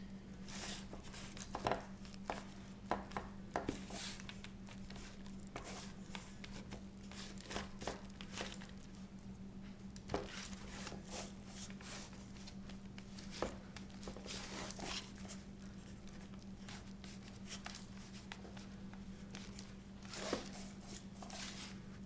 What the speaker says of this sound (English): You want to start by pushing the crust out to the edges to make sure that you have enough.